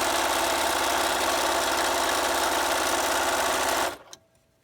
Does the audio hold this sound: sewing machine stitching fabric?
yes